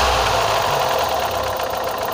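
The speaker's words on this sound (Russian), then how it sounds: "двигатель ровно работает, даже если газануть, то он всегда становится на свои места" A car engine idles evenly with a steady, close mechanical hum and a faint regular ticking, with no voices.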